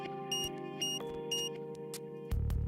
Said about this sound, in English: I turn around to see where the beeping sound is coming from.